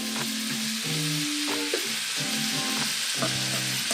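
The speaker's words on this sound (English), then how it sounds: "we're going to add in our sausage and ricotta" Sausage and ricotta hit a pot of softened, translucent vegetables, setting off a loud, continuous sizzle with stirring scrapes, close up and without talk.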